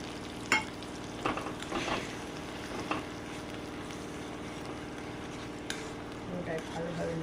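Sour yogurt being stirred into a cashew-based spice paste in a pan: soft scraping and stirring strokes with light sizzle, in irregular bursts over a steady background hum, at close range.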